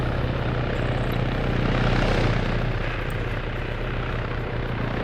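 A military video game helicopter drones steadily with a low rotor hum and a broad engine roar, holding constant and fairly loud throughout with no voices.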